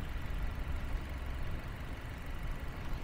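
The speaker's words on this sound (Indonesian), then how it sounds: "Oke, teman-teman bisa dengar sendiri suara irama mesinnya teratur banget." A 2017 Nissan Grand Livina XGear CVT petrol engine idles steadily with an even, low rumbling rhythm, heard close and continuous with no talking.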